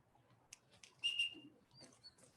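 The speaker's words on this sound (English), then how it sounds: "It's usually a whistle to go up." A short, high whistle from a person signaling a bird to fly up, two quick chirps sliding together, then a softer whistle follows amid faint rustling and small clicks.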